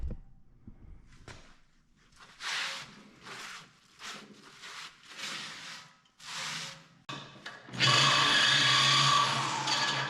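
Power tool cutting out part of an old wood-fired water heater, heard as intermittent whining bursts with pauses, ending in a loud, sustained, harsh cutting roar.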